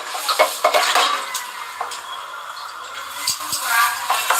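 Raw chicken pieces go into a cooking pot in a home kitchen, with close metal utensil scrapes, clatter against the pot and a soft sizzle underneath. Several sharp knocks break up the stirring.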